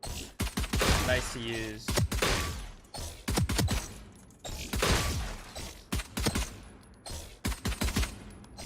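Ghost pistol shots in the tactical shooter Valorant, firing in quick bursts of sharp cracks spread across the clip, with a person talking between and over the shots.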